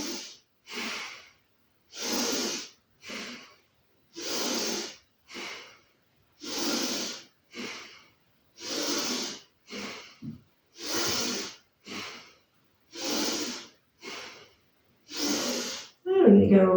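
Slow yoga breathing with movement, loud close inhales and exhales alternating in a steady rhythm of about a dozen breaths separated by brief silences, ending with a spoken voice.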